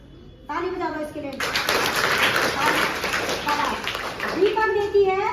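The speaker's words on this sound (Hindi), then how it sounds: "ताली बजा दो इसके लिए।" A group of children claps hands together, a dense burst of applause lasting a few seconds, framed by adult voices speaking just before and after.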